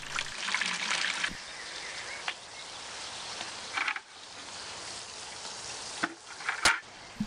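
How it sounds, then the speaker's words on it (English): Leftover coolant drains out of a Saturn's heater core into a bucket, a steady hissing trickle of liquid, close and continuous, with a few brief knocks and a sharper clatter near the end. "What little coolant was left over inside the heater core drains into the bucket."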